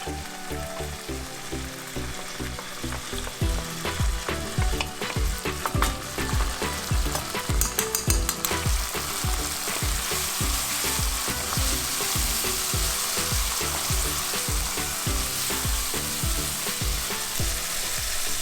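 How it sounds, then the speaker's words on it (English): Cluster beans and spices frying in a pan, a steady loud sizzle with rhythmic scraping and stirring of a spatula throughout. "So you want to mix this well and let it fry for a minute or 2 so that the raw smell goes away."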